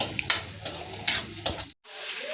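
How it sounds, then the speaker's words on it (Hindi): Semolina roasts in a pan on the stove, stirred with a spoon that makes intermittent scraping strokes and light crackles at close range before a brief silence, then a soft resumption. "ये मैं भून ले रही हूँ यहाँ पर सूजी"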